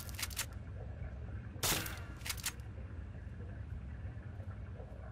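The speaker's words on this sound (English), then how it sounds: "Think you can take care of that with your BB gun? Just aim and shoot." BB gun shots fired at a radroach in Fallout 3: a few sharp, dry cracks, one near the start and a cluster around the middle, over a steady low ambient rumble with no talking.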